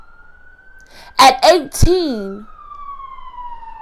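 A police siren wails steadily in the background, one long sustained tone under a brief burst of a man's speech in the middle.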